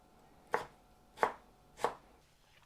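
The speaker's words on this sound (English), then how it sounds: "start peeling and chopping all my vegetables" A knife chops vegetables such as tomatoes and courgette for a homemade chutney, three crisp, evenly spaced strikes on a board, close and clear with no talk.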